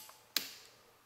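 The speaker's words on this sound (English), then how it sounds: "You can hear the solenoid" A starter solenoid on a 1988 Yamaha Wavejammer engages with a single sharp, close metallic click, followed by a faint, fading tail in an otherwise quiet setting.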